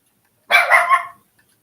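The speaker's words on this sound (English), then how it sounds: "the neighbors are outside making noise, so the dogs get excited" Dogs bark excitedly at neighbors outside, a single close, loud burst of several overlapping barks lasting under a second, followed by silence.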